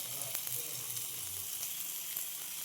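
Bangda fish rava fry cooking on a tawa, a soft continuous sizzle with faint crackles, close and fairly quiet, no talk.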